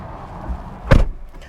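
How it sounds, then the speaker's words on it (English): A single solid, heavy thud as the car door of a 2021 Mercedes-Benz E-450 convertible is shut, close and brief against a quiet background. "the door sounds nice and solid, and the door is pretty heavy"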